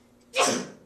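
A single short, forceful sneeze in a lecture hall during a philosophy lecture, fairly close and loud, alone without talk.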